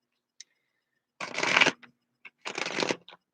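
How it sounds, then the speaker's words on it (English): A deck of tarot cards riffled and shuffled up close in two crisp bursts, each about half a second long, separated by small taps and handling clicks in an otherwise quiet room. "As I shuffle one more time"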